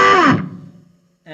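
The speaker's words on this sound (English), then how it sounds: "And now let's hear it with distortion." A Zoom G2.1u effects pedal's distorted electric guitar chord rings out and decays, then a second gritty chord starts just before the end.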